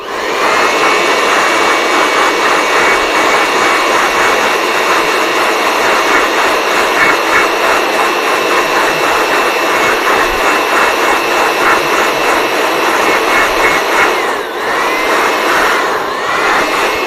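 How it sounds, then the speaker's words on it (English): An electric blower runs steadily and loudly for the whole stretch, a dense whooshing whine with a high motor tone, briefly dipping and swelling near the end while cleaning an HP 255 G3 laptop during restoration. "Or what we want to do is to speed up the process by my blower."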